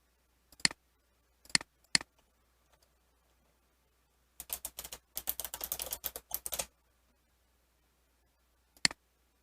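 Computer keyboard and mouse in use while searching in a web app: a few isolated clicks, a quick burst of typing keystrokes, then a single final click, crisp, close and quiet.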